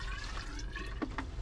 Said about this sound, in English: I'm going to put some water down there.